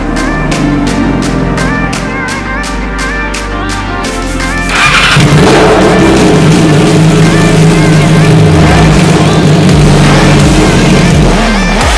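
A motorcycle engine runs loud and close with a steady harmonic drone, then surges louder and rougher about halfway through as it revs and keeps roaring to the end.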